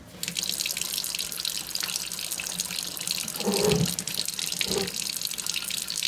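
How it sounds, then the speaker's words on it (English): Water pours steadily into the soil around a newly planted amaryllis bulb in a pot, a continuous close hiss of running water with a brief heavier gush midway and no talking. "Let's water this in."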